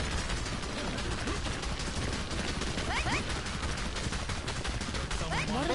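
A T-gun hammers out rapid bullets in Earth Defense Force 5, a continuous dense rattle of fire under a steady wash of battle noise, with faint chirping effects cutting through.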